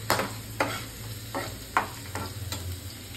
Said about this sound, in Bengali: এই দেখো নাড়িয়ে দিচ্ছি হাতা দিয়ে